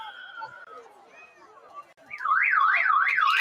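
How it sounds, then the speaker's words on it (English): A loud wailing siren at a football ground rises and falls in regular sweeps, starting after a stretch of crowd noise and chatter. "And the siren sounds."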